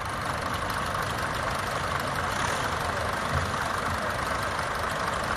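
Several tractors idling together in an outdoor tractor parade setting, a steady, dense low engine rumble with faint knocking that holds at an even level throughout without pauses.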